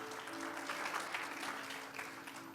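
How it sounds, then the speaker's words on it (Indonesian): A church congregation applauds during a worship service with steady, dense clapping that sounds soft and somewhat distant, while a low sustained tone hums underneath. "masing-masing kita bangga bersuka cita tepuk tangan bagi Tuhan Yesus"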